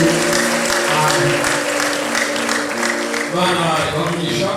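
A church congregation claps together during a deacon blessing service, a loud, sustained wash of applause mixed with voices and a sustained musical tone underneath.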